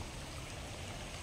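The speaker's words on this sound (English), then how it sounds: "to hear the sound of the dazzling water" A stream flows through a large open public park, giving a steady, dense wash of running water that stays even and unbroken from start to finish, with no voices over it.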